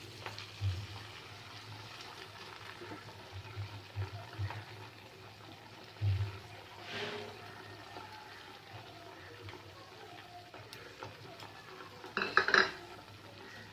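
Spice paste with cashew nuts, poppy seeds and rice being stirred and fried in a pan for a Bengali doi katla, with faint scraping and soft sizzling and a couple of louder utensil clanks near the end.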